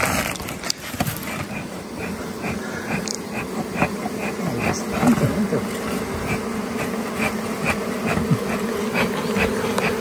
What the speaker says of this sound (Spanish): Ustedes pueden escuchar el ruido, la angustia de las abejas.